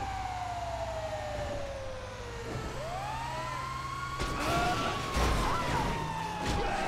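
A car with an emergency siren in the video game GTA 5 wails through rising and falling sweeps over steady engine rumble, with louder bursts of traffic noise near the end.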